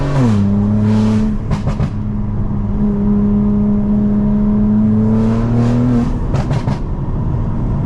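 A BMW G82 M4 burbles at idle with a steady droning exhaust note, then a quick run of sharp exhaust pops crackles out on the downshift, heard up close and loud over the engine.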